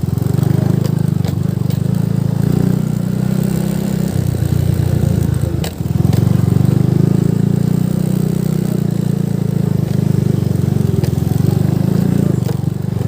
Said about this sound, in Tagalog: Pang motocross na mga motor.